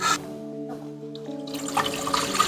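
Water pours into a pot while cooking kharvas, a steady splashing flow that starts after a short pause and continues close by.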